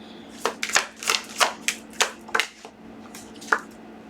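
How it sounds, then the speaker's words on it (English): Tarot cards being shuffled by hand, a series of crisp riffling swishes in an irregular rhythm, close up and fairly quiet over a faint steady hum. "Okay, it didn't fall, so we're going to keep shuffling."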